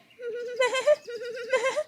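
A baby goat bleats in a cartoon, two drawn-out wavering cries in close succession, loud and near, with no other sounds.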